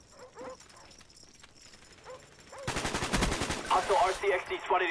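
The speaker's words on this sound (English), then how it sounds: "Dogs inbound." In Call of Duty Black Ops, attack dogs bark and yip at first, then loud rapid machine-gun fire bursts in, with dogs still audible beneath the shooting.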